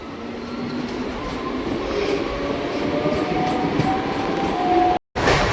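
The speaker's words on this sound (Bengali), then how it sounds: "কৃষ্ণনগর থেকে আমঘাটা লাইনে ছুটে চলেছে" A Krishnanagar–Amghata local train runs along the line, a loud, steady rumble of wagons with faint wheel squeals building throughout, cut off abruptly near the end.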